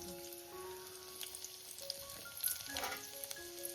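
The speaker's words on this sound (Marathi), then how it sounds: "हे जरा परतून घेते" Green chillies and curry leaves sizzle in hot oil for a Maharashtrian shrimp curry, a steady close frying crackle with a brief louder burst as they are stirred, no voices.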